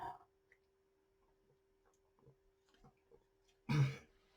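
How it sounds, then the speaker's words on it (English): One sharp throat-clearing cough bursts out loud near the end, after a long quiet stretch with only faint ticks and small mouth sounds. "I'm just going to have a little drink because I'm going to cough again"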